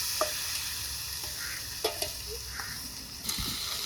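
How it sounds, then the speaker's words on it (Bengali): Marinated mutton hits fried onions in a pan, giving a soft, steady sizzle. A few clinks and scrapes of stirring are heard up close. "পেঁয়াজগুলো ভাজা ভাজা হয়ে গেছে এখনই মাখানো মাংস ঢেলে দেবো"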